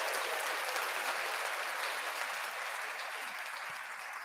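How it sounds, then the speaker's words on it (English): Applause and hand claps from a small group on a podcast, a dense steady patter that is close and continuous, fading slightly toward the end, with no speech over it. "Hand claps."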